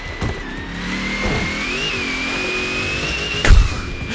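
A car engine revs in Forza Horizon 4, a continuous whining mechanical tone that rises and wavers in pitch, loud and close, with a sharp thump near the end.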